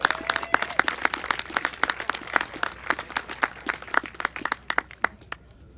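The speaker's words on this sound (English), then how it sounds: "How about a nice round of applause for Chuck?" Spectators at a sheepdog trial finals applaud a handler's introduction, a scattered outdoor crowd clapping in quick, uneven bursts that thin out and stop after about five seconds.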